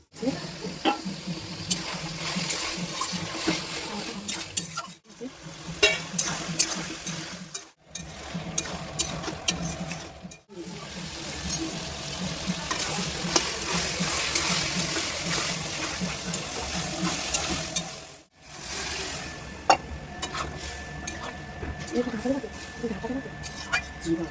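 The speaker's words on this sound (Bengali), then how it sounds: "এবার কষাবো মাংস, ঢাকনা দিয়ে ঢেকে দিচ্ছি।" Mutton being kosha stir-fried with bay leaf, cardamom and spices in a pan, a steady sizzle with scraping stirs running under speech throughout, broken by a few brief pauses before the lid goes on.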